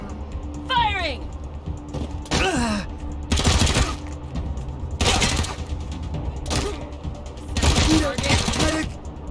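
Video game gunfire in a post-apocalyptic ranger squad game, loud bursts of rapid shots in several volleys, with voices and game sounds between them.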